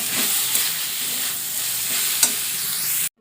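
Drumstick leaves (sajne shak) frying in a pan, a steady close sizzle broken by a few scraping stirs of the spatula before the sound cuts off abruptly at the end.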